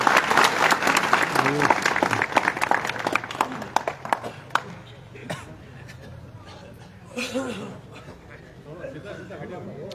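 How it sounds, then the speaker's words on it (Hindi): Loud audience applause bursts out for Rajendra at a public gathering in Bhirani, dense clapping that gradually thins and fades, with scattered voices and chatter underneath. "एक बार जोरदार ताली राजेंद्र जी को दी बजाय"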